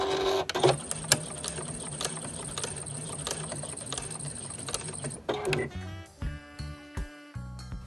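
A sewing machine stitches a short section of a fabric bag seam and backs up, a fast close mechanical whir that stops partway, followed by faint handling clicks.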